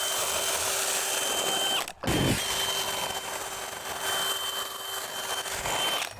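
A power drill with a self-feed auger bit bores through wall wood and foam, whining steadily and loudly, then pausing briefly before grinding on.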